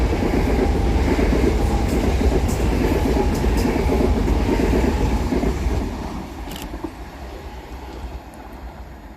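A Gatwick Express train of three Class 387 electric units, 387207, 387212 and 387218, passes fast through Preston Park station with a loud rushing rumble and wheel clatter that drops away after about six seconds, no voices.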